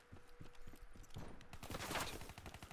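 Rapid bursts of gunfire from the video game Black Ops 3 in gun game mode, with dense clattering shots that grow louder toward the end, faint and close to the game mix.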